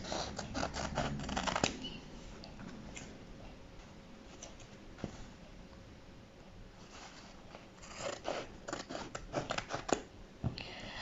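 Scissors snip through wax-print cotton fabric while a face mask is cut out at a table, giving a run of close, crisp clicks and snips at the start and again near the end, with quieter handling between.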